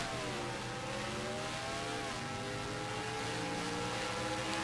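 A race car engine in a racing video game hums and revs continuously on a qualifying lap at Pocono, with rising and falling engine tones at moderate, steady volume.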